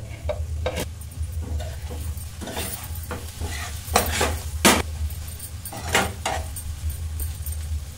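Goat brain masala fry sizzling in a pan, a steady frying hiss throughout with intermittent scraping and clinking of a utensil stirring against the metal.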